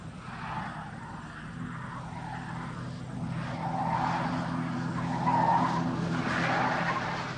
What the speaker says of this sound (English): The Falcon is now traveling at over 90 kilometers per hour.